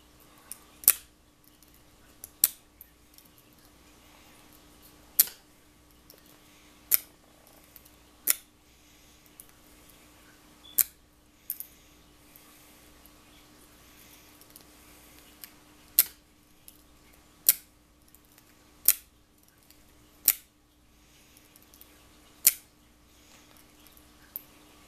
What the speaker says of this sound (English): put the hook in the back of the lock, and just pull it out until it opens.